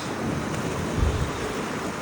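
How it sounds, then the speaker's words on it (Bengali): Strong wind buffeting the microphone while riding an electric scooter on city streets in Dhaka, a steady low rumbling rush that holds throughout. "ঢাকা শহরে আমার ওরে বাবা হেভি বাতাস"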